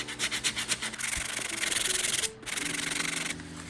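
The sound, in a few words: sanding a car body panel with a sanding block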